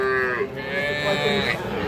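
A young bull calf gives a single drawn-out moo at a cattle market, close and fairly loud, rising and falling over about two seconds.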